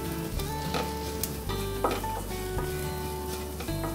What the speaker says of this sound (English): Keep sauteing your onions gently on low flame, making sure that they don't stick to the pan